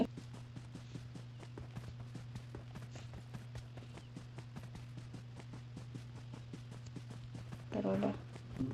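Horse hooves clip-clopping in the mobile battle royale game PUBG Mobile, a steady rapid stream of light hoofbeats over a constant low engine-like drone, with a brief voice near the end.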